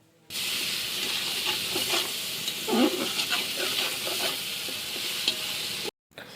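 Onion and garlic paste frying in a pan of oil while cooking a country chicken curry: a steady, close sizzle with stirring scrapes, cut off abruptly near the end.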